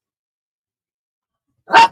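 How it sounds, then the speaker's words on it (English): A single dog bark, loud and close, bursting out alone after near silence. "Can you hear the dog barking?"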